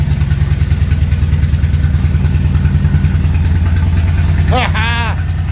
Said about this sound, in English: Cold start on the motorcycle.